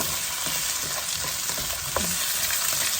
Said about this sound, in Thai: อันนี้ลงไปผัดแป๊บนึงก่อน